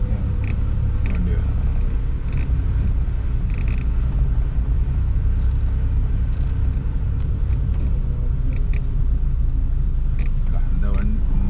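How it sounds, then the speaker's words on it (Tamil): A vehicle rumbles along a night road between Cumbum and Kumuly, a continuous engine drone heard from inside a moving car with a few faint clicks and knocks. "போயிடுவேண்ணா வண்டி வருதுண்ணா"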